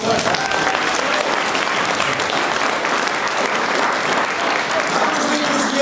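Sustained applause from an audience gathered in a church, dense and even throughout, with no pauses and no clear voices rising above the clapping.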